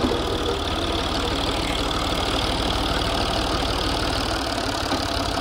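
A tractor engine idles steadily while parked, a continuous low mechanical rumble with a faint knocking pulse, close and unbroken throughout with no talk.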